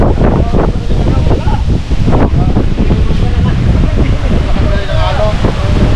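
Strong wind blowing across a lakeshore, gusting loudly into the microphone with a steady rumbling roar and lapping water, while people speak over it throughout.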